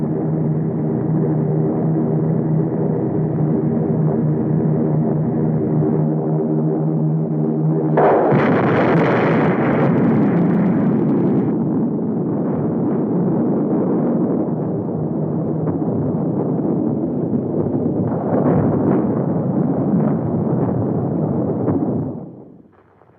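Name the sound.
atom bomb explosion in a film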